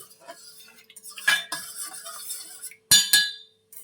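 A metal spoon stirs salt into water in a cooking pot, with a few short bursts of close clinking and scraping against the pot separated by quiet gaps.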